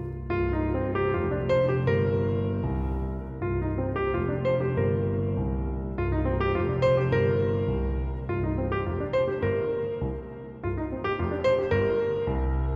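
A piano plays a jazz improvisation exercise, a continuous flowing line of short phrases over sustained low chords, clear and close with no talking.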